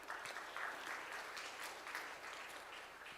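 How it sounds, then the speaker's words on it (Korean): An audience at a forum on climate and science technology applauds a speaker, steady dense clapping from many hands throughout, moderately loud and without pauses. "큰 박수로 맞이해 주세요."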